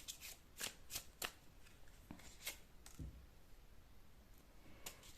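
Tarot cards are shuffled close by in a quiet room: quick crisp flicks and riffles come in an uneven burst, then scattered soft taps, all faint, with no voices.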